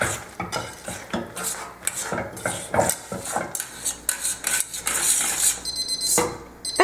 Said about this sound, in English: we're just going to continually stir this for 5 minutes